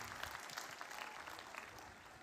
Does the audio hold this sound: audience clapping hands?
yes